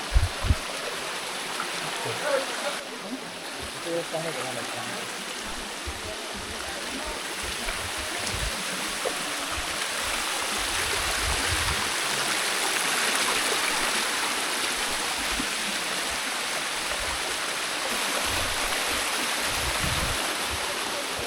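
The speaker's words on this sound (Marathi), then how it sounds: "धबधबा व्हायला सुरुवात झाली" Steady rushing water from a waterfall at Korigad fort fills the scene, a continuous broadband roar, fairly close and building slightly after the first few seconds.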